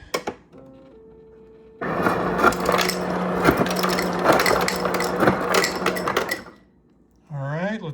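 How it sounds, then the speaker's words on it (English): Ice from a Kenmore Elite Whirlpool refrigerator door dispenser with a replaced actuator pad rattles and clatters out in a steady rush for several seconds. A faint click and hum come first, and a voice speaks at the end. "Let's get some ice."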